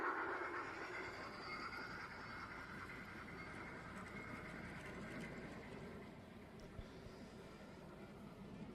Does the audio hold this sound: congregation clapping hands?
no